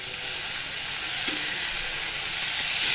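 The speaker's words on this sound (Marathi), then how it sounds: "आता आपण टोमॅटो टाकूया। आपण बारीक चिरून घेतले टोमॅटो।" Finely chopped tomatoes going into a hot pan for a Maharashtrian farsan vegetable curry, giving a steady, even sizzling hiss that stays close and constant throughout with no talking.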